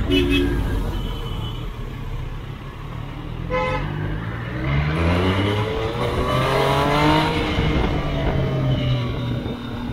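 A superbike with an Aero slip-on exhaust screams loudly and steadily, the pitch climbing and falling through sharp revs, close by and with no talking.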